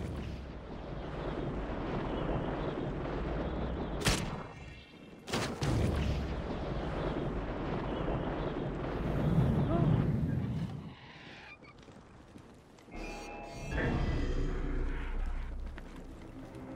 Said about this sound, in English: The wind rises. And the sand with it.